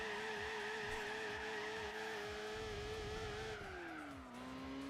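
Gran Turismo 4 car spinning its rear wheels to warm the tyres, with a steady engine drone and a screeching tyre squeal throughout that drops in pitch near the end as the car pulls away.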